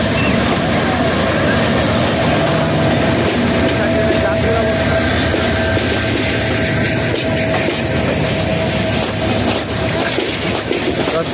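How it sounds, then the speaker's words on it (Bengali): The crowded Teesta train, packed with passengers returning after the Eid holiday, leaves Mymensingh station with a loud, constant rail roar and rattling wheels heard from on board. Voices mix into the din. "তিস্তা ট্রেনটি ময়মনসিংহ থেকে ছেড়ে যাচ্ছে"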